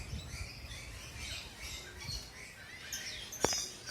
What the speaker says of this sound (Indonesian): Burung parkit.